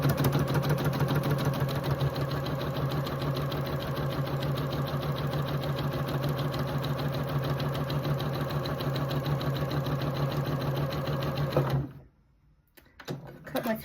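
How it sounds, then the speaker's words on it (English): A sewing machine stitches fabric for half-square triangles, running in a steady continuous mechanical whir for about twelve seconds before stopping abruptly into near silence. "I'm going to sew off the end, raise the presser foot, and without cutting the threads I'm going to come back down the other side."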